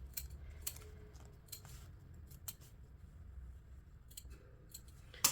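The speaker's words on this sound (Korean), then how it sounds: "가위밥 주십니다." Quiet, crisp scissor snips come in scattered clusters as notches are cut into the seam allowance of a dress lining fabric in a quiet room.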